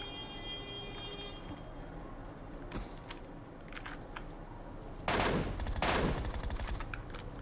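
Gunfire in the PUBG Mobile video game on the Miramar desert map, a few sharp distant shots early on, then a louder burst of rapid fire around the middle, over a steady background hum without talk.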